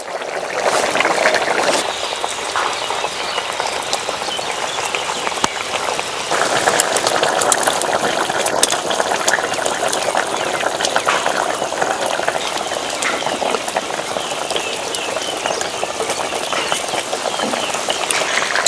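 Rohu fish curry with potato and cauliflower simmering in a pot, a steady loud bubbling and hissing boil that runs continuously without a break.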